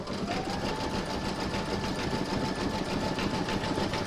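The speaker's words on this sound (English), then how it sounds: "going to pop that back into your machine and stitch round number five" An embroidery sewing machine stitches the edge of a mandala placemat held in a hoop, producing a close, continuous rapid whirring hum at an even pace, with no talking.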